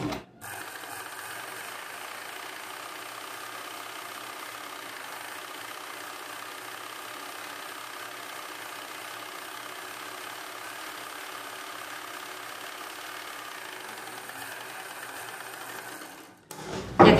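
An electric sewing machine stitches a collar-neck blouse in one long, steady run of rapid needle strokes, close and even, starting and stopping abruptly.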